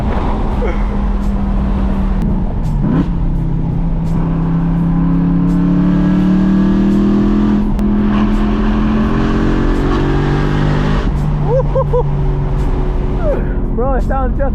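BMW E92 M3 with muffler and resonator delete on a canyon drive, its loud engine and exhaust droning and rising through the gears under continuous interior chatter.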